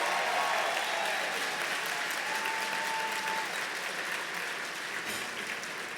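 A large gala audience at an Equality Illinois event claps steadily in a dense, sustained round of applause with faint cheering, easing slightly toward the end.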